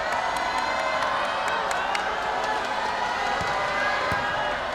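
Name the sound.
basketball crowd reacting to a player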